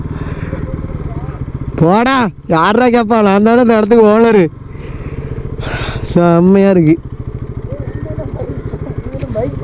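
A motorcycle engine revs up and down in loud bursts at Kodiyakarai beach, with people talking over it as the bike moves.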